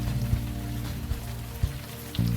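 Steady rain falls in the video game Unavowed, a continuous soft patter with a few louder drips and thumps, heard alone without voices.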